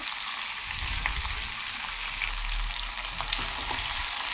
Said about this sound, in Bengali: এই পেঁয়াজ ক্যাপসিকামগুলো একটু নরম হওয়া পর্যন্ত ভেজে নিতে হবে